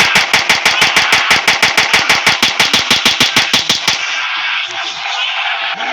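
Rapid automatic gunfire in a Roblox game, a steady burst of evenly spaced loud shots for about four seconds, then cutting off into a lingering noisy hiss.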